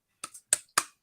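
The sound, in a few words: hand clap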